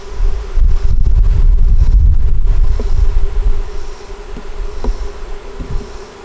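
Honeybees buzzing loudly around an open hive as frames are handled: a dense, close droning hum that swells strongly, then settles to a softer buzz with a few individual bees passing nearby.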